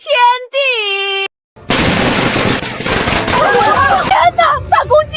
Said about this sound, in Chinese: 大公雞身上有鞭炮！